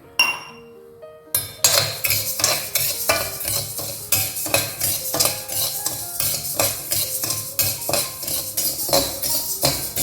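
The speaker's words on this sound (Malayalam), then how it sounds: "ചീഞ്ചട്ടി നല്ലോണം ചൂടായതിന് ശേഷം വറുക്കാനിടുക." Parboiled rice is dry-roasted in a hot clay pot, a spoon scraping and clinking against the pot in quick repeated strokes over a light rustle of grains, close and loud, after a brief quiet start.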